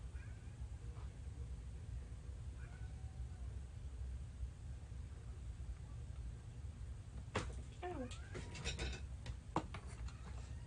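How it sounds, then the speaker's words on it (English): A house cat meows several times in quick succession near the end, close by and fairly loud, after a stretch of quiet room hiss. "she'll sit there and meow and meow and meow meow"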